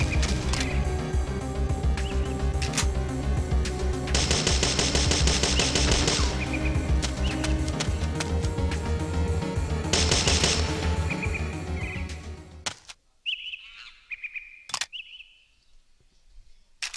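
Gunfire and mechanical weapon clatter from the PS1 game Parasite Eve 2 in Bounty mode, sustained bursts over a jungle-area soundtrack, cutting out near the end to a few isolated shots and quiet effects.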